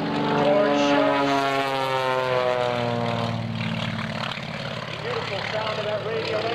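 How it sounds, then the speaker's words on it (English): A radial-engine aerobatic plane roars overhead at an airshow, its engine pitch sliding and fading as it pulls up into a vertical climb, leaving a distant drone with voices faintly in the background. "Beautiful sound of that radial engine as he pulls it up onto the vertical."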